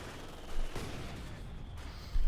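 Battle noise in Company of Heroes 2 as a Panzer IV tank fires on Soviet conscripts out in the open, a rumbling wash of gunfire with a heavy thump near the start and another swell at the end.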